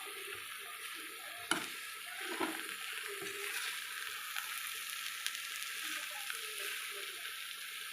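Maggi noodles with paneer and egg being stirred in a pan as the water cooks off, with faint sizzling and soft scraping, a few sharper clinks of the spatula, quiet overall.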